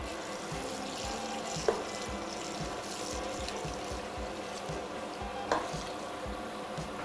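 Boiled water drained off a pot of İspir beans and meat in a restaurant kitchen, a steady rushing, splashing pour that runs the whole time with a couple of brief clanks.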